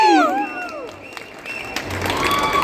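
A crowd at Mantri Mall cheers the title song launch of the Kannada film Suthradaari. Swooping whoops and whistles open it, followed by scattered clapping and crowd noise, loud and close.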